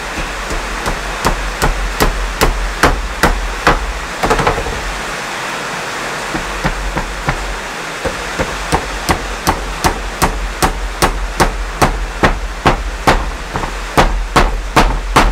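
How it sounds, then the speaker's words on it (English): A hammer drives wooden dowel pegs into a shiitake mushroom log in brisk, steady runs of sharp, loud knocks, with a short pause midway before the rapid strikes resume, close and without speech. "Drive that peg in just like a nail."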